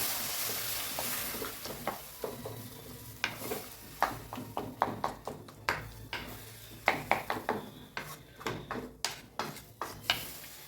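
Poori masala sizzles as it sautés in a pan under steady scraping and stirring, with repeated clinks of a spoon against metal in an irregular rhythm.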